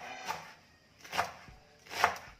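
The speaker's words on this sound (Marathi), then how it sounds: "पानं छान अशी मस्त बारीक चिरायची आहेत" Knife chopping taro (alu) leaves finely on a board, three distinct chops spaced about a second apart, close and crisp with quiet pauses between.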